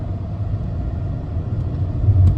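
A Jeep Cherokee XJ with an automatic transmission pulls away under light to moderate throttle, its engine giving a steady low rumble that swells slightly near the end as it gains revs.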